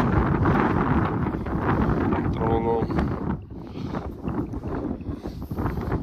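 Wind gusts roar across the microphone beside a fishing dam at Fisantekraal, a steady low buffeting that eases slightly toward the end, with someone speaking briefly partway through.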